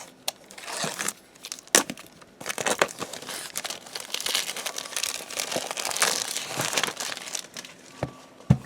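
Plastic wrap being peeled and torn off a hardcover journal, a close, busy run of crinkling and crackling with sharp snaps and rustles that continues for several seconds.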